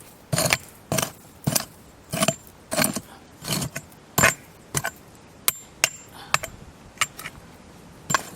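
Repeated scraping strokes of a tool dragging through gritty soil on a gold-detecting site in Victoria, Australia, about a dozen rough bursts in a steady rhythm, close and fairly loud with no talking.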